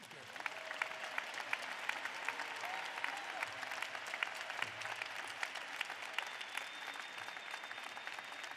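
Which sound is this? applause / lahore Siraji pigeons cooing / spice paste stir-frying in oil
applause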